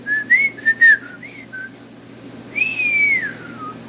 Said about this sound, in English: See, when I'm not trying, I can whistle.